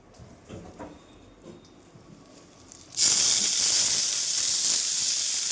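Garlic and onion hit a hot pan and erupt into a loud, sustained sizzling hiss that starts abruptly midway, after a quieter stretch of faint kitchen noises.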